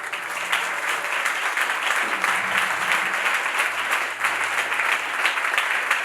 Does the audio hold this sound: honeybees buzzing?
no